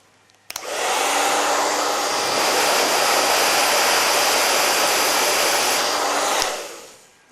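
A hair dryer blows hot air onto a lock of hair wrapped around a large round brush, a loud, steady close-up whoosh that switches on abruptly, holds for about six seconds, then cuts off.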